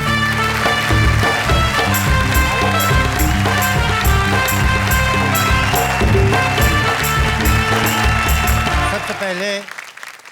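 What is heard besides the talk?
audience applause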